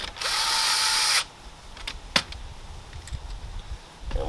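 A cordless power drill whirs in one steady, close burst while driving screws into a sprinkler valve, then cuts off; a few sharp clicks and handling knocks follow in a quieter room.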